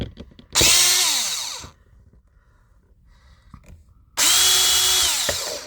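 Power tool driving out a Torx 20 screw from the instrument cluster of a 2003 BMW 525i, two loud whirring bursts of about a second each separated by a quiet pause with faint handling noises.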